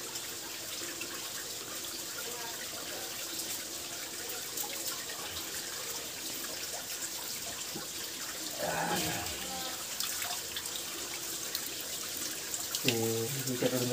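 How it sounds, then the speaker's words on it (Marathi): Water runs steadily into a bottle at an outdoor spot, a continuous splashing trickle close by, with voices and a brief louder burst partway through and some tonal sounds near the end. "तू बाटली भरते."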